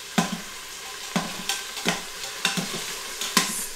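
Steak browning in an Instant Pot for Swiss steak, stirred and flipped with a utensil: a steady sizzle with about eight sharp scraping knocks at irregular intervals, close and fairly quiet, no talk.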